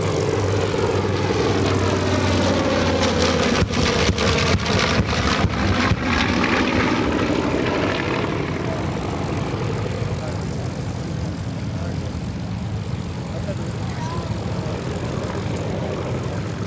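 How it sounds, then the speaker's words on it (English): A B-25 warbird roars past at an EAA AirVenture airshow, its piston engines and propellers droning loudly and steadily before receding, while an announcer speaks over the public address. "B-25 coming in from your right, B-25 exiting off on your left."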